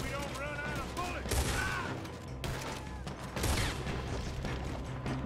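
Gunfire in the video game Red Dead Redemption 2: dense volleys of rapid shots and bursts from a gunfight, loud and continuous, with talk mixed in.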